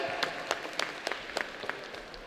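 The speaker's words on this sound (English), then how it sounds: "Give yourselves a round of applause for being here." Audience applause at a Sonic the Comic convention guest Q&A panel, a room of hands clapping steadily with a few sharper claps standing out, moderately distant and fairly quiet throughout.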